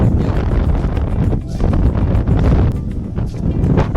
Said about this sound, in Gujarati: મારો અવાજ તમને આવતો છે, અંદર પવનનો અવાજ આવતો છે